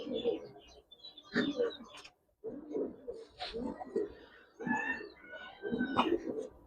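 An old female giribaz pigeon gives soft, repeated cooing phrases at close range, separated by short pauses.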